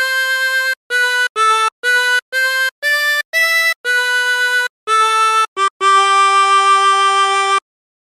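A harmonica plays a phrase of the carol O Come All Ye Faithful as a series of clean, reedy single notes, with short gaps between most notes and a final note held for nearly two seconds, loud and close.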